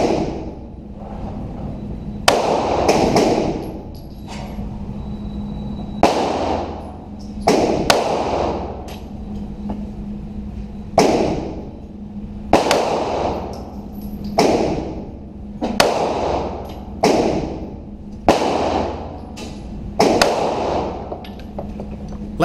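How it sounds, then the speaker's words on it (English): Gunshots ring out at a target 75 feet away, about a dozen sharp, loud reports spaced roughly every one to two seconds, each leaving a brief decaying echo. "I ran the target out to 75 feet, took steady aim, and fired."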